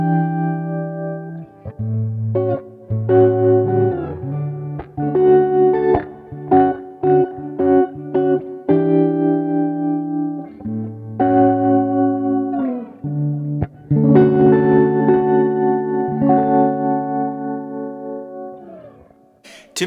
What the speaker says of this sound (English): what I've given you here is a tremolo effect